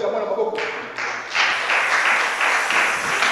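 Congregation in a church applauding, a steady wash of many hands clapping that starts up and swells, continuing dense and fairly loud throughout.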